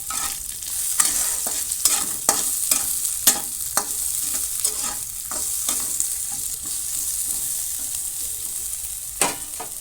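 Chopped onion fries with paneer in a pan under a strong, constant sizzle, broken by frequent sharp scrapes and clacks of a spatula stirring at an uneven pace; close, with no speech.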